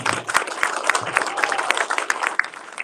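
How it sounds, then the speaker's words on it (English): An audience gives a round of applause for an organization receiving an award, a close, lively burst of many hands clapping at an uneven, fast rhythm. "Give them a round of applause."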